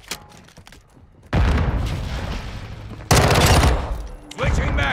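Gunfire in Call of Duty: Modern Warfare II multiplayer, heard as loud, dense bursts of automatic fire that start abruptly, briefly break off, then resume and hammer on amid battlefield noise.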